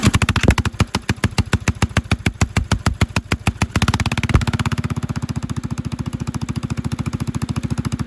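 A Predator 459cc small engine fitted with an upgraded intake, exhaust and fresh jet runs loud and close, firing in a steady rapid chug that slows, then settles into a smoother, faster running note.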